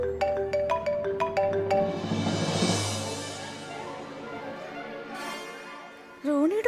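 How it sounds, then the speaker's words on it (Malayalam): A mobile phone rings in a Malayalam TV serial scene, a quick run of bright, repeating electronic tones followed by a softer sustained wash, with a brief voice near the end. "റോണിയുടെ ഫോണോ?"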